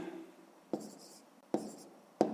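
A pen writing by hand during a fifth-grade math exercise: three short, distinct scratching strokes with quiet pauses between them, close and clear, with no talk.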